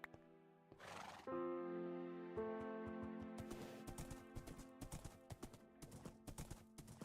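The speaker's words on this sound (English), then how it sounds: "But yeah, I can ride my horse over ice." Minecraft horse ridden across ice: a whinny, then a run of light, rapid hoof clip-clops that speed up and grow busier over several seconds, heard alone without talk.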